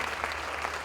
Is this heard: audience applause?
yes